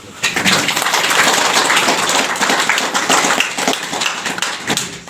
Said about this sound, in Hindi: वो ताली बजा रहे हैं।